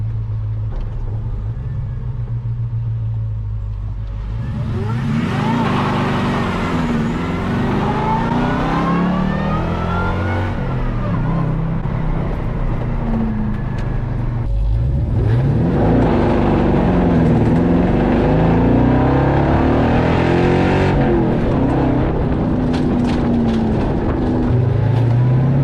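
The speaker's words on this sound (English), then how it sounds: "That makes all the supercharger sounds you'd expect." A supercharged, hydrogen-powered LS-swapped muscle truck engine revs hard in bursts, with rising and falling whine over a deep rumble, loud and close, with no talk.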